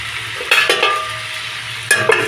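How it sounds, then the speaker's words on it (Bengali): Potatoes frying in a covered pan of oil, a quiet sizzle broken by a few sharp clattering stirs and lid knocks near the start and end. "ভাজার জন্য আমি ঢেকে দিলাম আলুটা"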